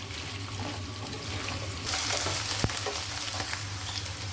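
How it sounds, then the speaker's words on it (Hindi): Okra fries in a pan over a low-to-medium flame, giving a steady, close sizzle that grows a little louder midway, with one sharp utensil tap near the end. No one speaks. "इनको मैं फ्राई कर लूँगी लो टू मीडियम फ्लेम पे अच्छी तरह से"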